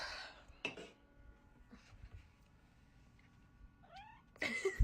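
Ruby, a baby cat in a video game, gives a single rising meow late on, fairly faint over a hissy background with scattered clicks and brief noise bursts.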